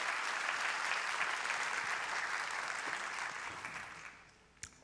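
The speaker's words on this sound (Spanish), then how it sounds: "Dale más fuerte ese aplauso al Señor" A church congregation applauds during a sermon, a broad sustained roar of many clapping hands that holds steady and then fades out, ending with a single sharp knock near the close.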